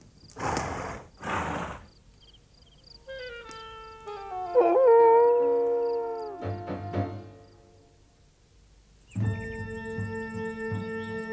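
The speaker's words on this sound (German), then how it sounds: "Ein Kojote." Coyote howling in a Lucky Luke cartoon, a long rising and falling howl after two short noisy bursts, ending in a held musical chord.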